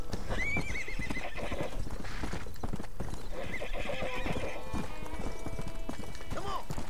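Horse in the Red Dead Redemption video game galloping with rapid, steady hoofbeats, neighing and whinnying several times over the continuous clip-clop.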